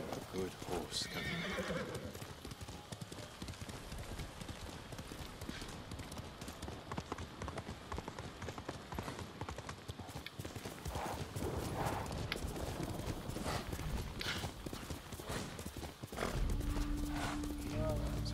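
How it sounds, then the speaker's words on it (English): Galloping horse in the samurai action game Ghost of Tsushima, steady clip-clop hoofbeats with occasional whinnies running throughout, mixed with game music and effects while characters speak over it. "Good horse, Kevin."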